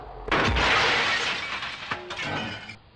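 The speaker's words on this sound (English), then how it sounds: "The title card is made out of a millimeter-thick layer of volcanic glass. If you let it fall over..." A millimeter-thick sheet of volcanic glass tips over and shatters in one loud, close crash, with shards scattering and tinkling for a couple of seconds before a second smaller burst of breaking glass.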